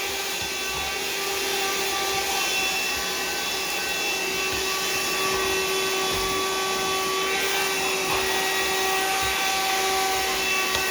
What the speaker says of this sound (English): Now we got dust busters going.